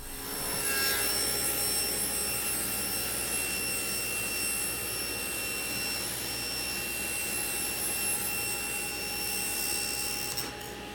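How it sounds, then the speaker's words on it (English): A saw rips a sheet of 1/4-inch plywood into 16-inch pieces, a steady whining cut with a constant high tone that holds at an even level from start to finish. "I'm making this toolbox from 1/4-inch plywood, and I'm starting off by ripping 16-inch pieces."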